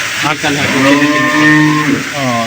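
A dairy cow at a cattle farm gives a loud, drawn-out moo that fills the clip, with voices faintly underneath.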